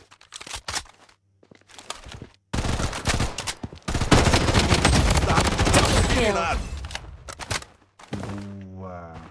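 Rapid gunfire in the online shooter Blood Strike during a multiplayer match, with sustained bursts of automatic fire that are loud and close and go on for several seconds, preceded by scattered single shots and short game sounds.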